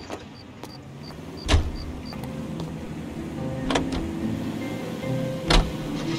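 A car in L.A. Noire hums along with a low engine drone, broken by a few sharp thumps and clicks, quiet and steady throughout.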